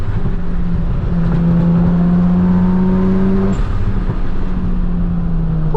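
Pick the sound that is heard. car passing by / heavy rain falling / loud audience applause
car passing by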